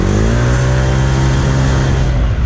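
A Honda PCX 150 scooter fitted with a modified clutch, new drive pulley and aftermarket exhaust accelerates hard, its engine note loud and steady with a rising harmonic drone close by throughout.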